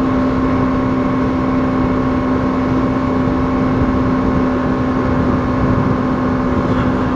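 A 2025 Bajaj Dominar 200 motorcycle in fifth gear pulls hard up a steep mountain road, its engine holding a loud, steady, high-revving drone with no pauses.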